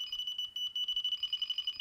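Delkim carp-fishing bite alarm beeping fast and high-pitched, the rapid pulses running together into a continuous warble.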